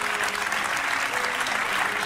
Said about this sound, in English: hearing that applause just makes me feel so good.